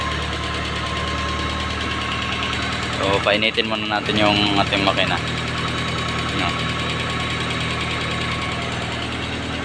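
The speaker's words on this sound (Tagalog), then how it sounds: "So painitin muna natin yung ating makina." A Mitsubishi Galant MPI engine idles steadily while warming up, a continuous low rumble with a brief burst of louder clatter partway through, and a voice speaks over it.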